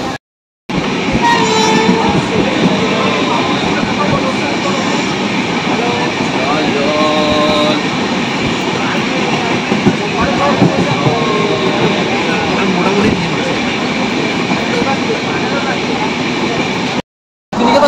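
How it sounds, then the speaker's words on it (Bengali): Steady loud rumble and clatter of an express train running at about 95 to 100 km/h, continuous throughout, with rhythmic wheel noise and brief quieter gaps at start and end. "ট্রেন কিন্তু ভালো পিক আপে চলছে, 95 থেকে 100 কিলোমিটার/আওয়ার স্পিডে মোটামুটি ট্রেন চলছে"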